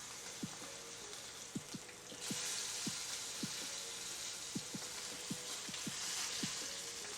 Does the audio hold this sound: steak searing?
yes